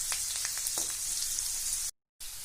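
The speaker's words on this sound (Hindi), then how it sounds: "इसे हम 30 सेकंड तक भुनेंगे।" Garlic sizzles in hot oil in a pan, a steady close frying crackle with a few louder pops, then a brief cut to silence before the sizzle resumes.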